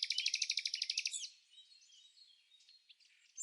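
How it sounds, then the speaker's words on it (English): A small bird sings a rapid, evenly pulsed trill for about a second, then gives softer scattered chirps and a brief bright call at the end, close and clear against silence. "Answer: the bird's song."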